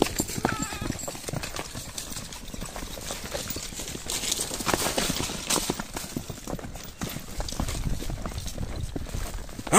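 Horses' hooves clatter steadily through a noisy outdoor goat-catching event, a dense, continuous clip-clop under crowd noise and wind.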